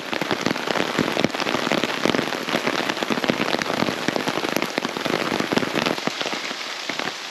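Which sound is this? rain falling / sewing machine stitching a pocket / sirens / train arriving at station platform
rain falling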